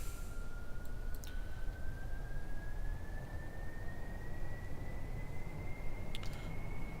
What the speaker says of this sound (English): So we're gonna max out the thrust here at the beginning. Brakes off and engines on.